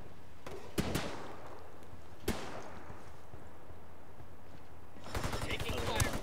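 In a ranked shooter video game, a pair of isolated sharp gunshots cracks out over quiet background, followed near the end by a rapid burst of automatic fire.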